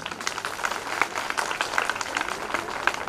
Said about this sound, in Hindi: अपने लिए जोरदार ताली बजा दो